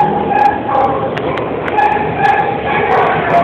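Dogs at an animal shelter bark and yip repeatedly in a lively, overlapping chorus, some barks sharp and near, others further off, with a person talking over them.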